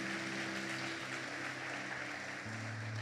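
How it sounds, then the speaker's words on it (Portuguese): A church congregation applauds during a Sunday evening worship service, with steady, moderately distant clapping throughout and sustained musical tones beneath it. "Aplauda Jesus."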